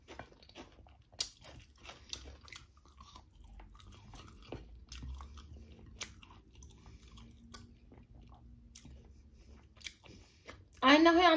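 Someone eats a whole pot of biryani alone, with soft moist chewing and occasional crunchy bites up close, scattered through the clip, and a louder burst at the very end.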